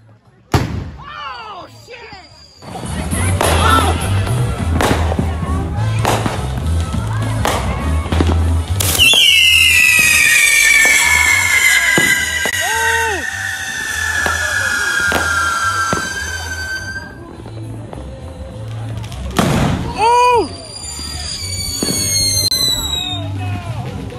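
Fireworks at a 4th of July block party burst in a run of sharp, loud bangs and crackles, with a long whistling shriek in the middle, while people nearby shout and talk throughout.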